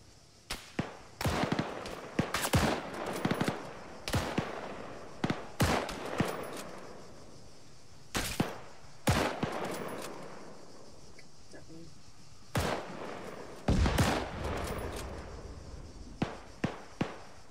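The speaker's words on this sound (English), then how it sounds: "Shooting at me, I don't know where he is." Sharp bursts of gunfire in ARMA 3, a run of loud, close cracks scattered irregularly across the stretch, some in quick clusters and others spaced apart, over quieter background noise.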